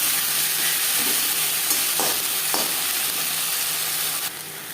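Tomato with ginger paste, green chilli paste and bay-leaf tempering hitting hot oil for a catla fish curry, producing a continuous loud broadband sizzle with a couple of brief stirring scrapes, easing slightly near the end.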